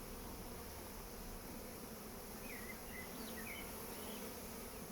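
A dense, continuous hum of many honeybee drones buzzing at close range inside a hive fills the recording, steady and unbroken, with no voices.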